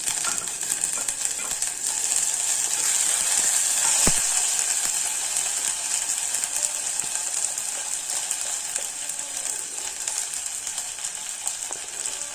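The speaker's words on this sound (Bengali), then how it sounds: "পেঁয়াজ কুচিগুলো ভালোভাবে ভেজে নেব।" Chopped onions fry with ginger garlic paste for a mixed vegetable dish, a bright continuous sizzle close up with occasional spatula clicks and scrapes, no talking.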